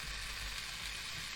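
Raw diced potato cubes, washed of their starch, frying in hot oil with a steady, dense sizzle that holds at an even loudness throughout, close and unbroken, with no talk over it.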